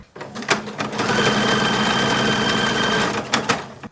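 A sewing machine stitches seams in bright yellow thread for a 1940s WWII uniform, with a few short bursts, then a sustained run of rapid needle clatter lasting over two seconds before stopping in short bursts again.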